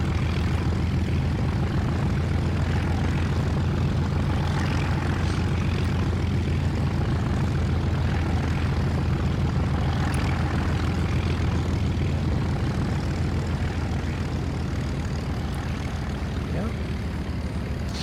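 The Lockheed P-38E fighter plane in War Thunder holds a loud, steady propeller engine drone with no break, and voices talk over it now and then.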